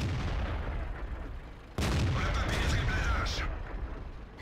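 Tank cannon shells firing in the World of Tanks video game during a chaotic battle, a sharp heavy blast followed by booming rumble and mechanical clatter, loud and close.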